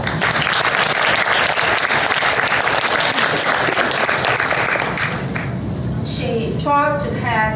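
Dense audience applause fills a room at an International Women's Day conference award presentation, sustained and loud, thinning toward the end as a voice begins speaking over the fading clapping.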